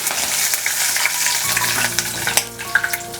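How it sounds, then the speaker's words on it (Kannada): Curry leaves dropped into hot oil with peanuts and chana dal for lime rice tempering, a loud, close sputtering fry with crackling pops that intensify midway, no voices. "ಈಗ ಕರಿಬೇವು ಹಾಕ್ಕೊಂಡಿದ್ದೀನಿ"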